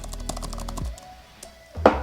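Typing on a new M1 MacBook Air keyboard, a short burst of soft, quiet key taps close up, then a pause and one final tap.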